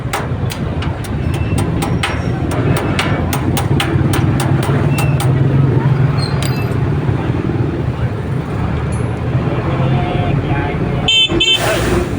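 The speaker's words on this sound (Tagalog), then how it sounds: "Nakakagulat pala yung supot na busina" A car horn honks amid loud traffic noise, with a voice talking underneath and sharp bursts toward the end.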